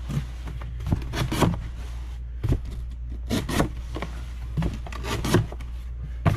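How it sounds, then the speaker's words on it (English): A scoring tool scrapes along the sides of a cardboard box being packed for shipping, in several short, uneven strokes and rubs at close range with no talking. "I'm going to score down each side like this, this, and this"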